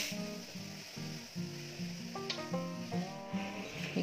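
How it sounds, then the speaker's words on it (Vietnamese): Sliced pork stomach stir-frying in a hot pan gives a continuous close sizzle, partly masked by tonal background music. "Bao tử để vô, để vô mình xào cho nó thơm"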